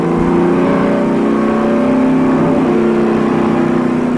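Race cars on track at the 1994 Daytona 500, a dense, loud, continuous roar of many engines running together as the field heads down the back straightaway, close and steady throughout.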